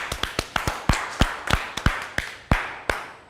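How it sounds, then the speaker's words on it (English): A few people clap after a home workout session, sparse separate sharp claps in an irregular rhythm, close and fairly quiet, with no talking. "I think everybody deserves a round of applause."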